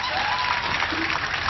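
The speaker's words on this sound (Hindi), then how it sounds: "कविता समाप्त हो गई है, आप लोग भी ताली बजा सकते" Brief burst of audience clapping after a poem recital, a dense, steady patter of many hands heard close and fairly loud for just a moment.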